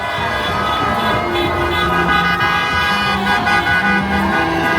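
Car horns honk repeatedly from passing drivers during a large street protest in the USA, several overlapping toots of different pitches over steady traffic and crowd noise.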